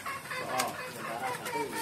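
Short, soft clucking calls from a green junglefowl close by in a pen, a few quick notes over faint background noise.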